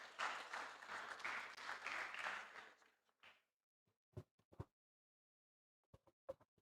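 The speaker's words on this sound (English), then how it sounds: "Please clap for him." Audience applause for an award presenter at an engineering conference, a dense burst of clapping lasting a few seconds that quickly dies away, followed by scattered isolated claps and small knocks in the quiet room.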